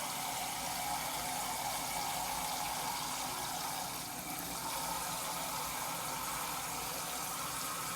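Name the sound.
water poured into a pot of rinsed rice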